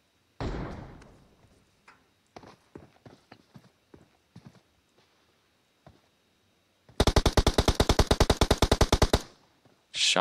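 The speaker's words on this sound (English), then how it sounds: "Shots on Vital, getting a few hits on her" A rapid burst of automatic gunfire in a competitive video game scrim rings out loud and close for about two seconds, preceded by scattered quieter clicks and thuds.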